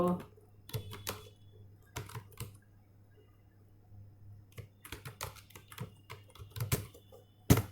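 Bursts of computer keyboard typing come in quick clusters with pauses between them, close and moderately loud, over a low steady hum, while a voice speaks intermittently.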